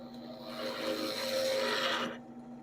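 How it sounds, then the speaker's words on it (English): A short, steady grinding whir with a rasping, scraping edge as a drill bores into wood swells and then cuts off after about two seconds. "Okay, let's drill."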